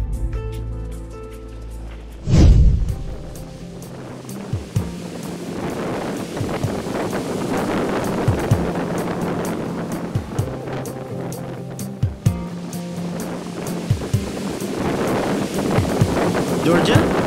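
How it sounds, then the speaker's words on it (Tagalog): Strong wind buffets the microphone while big waves surge and crash along the coast at the Bangui Windmill, a continuous roar with repeated thumps, and people talk over it. "Sobrang lakas ng hangin, kaya ganito na lang kalalaki ang mga alon dito."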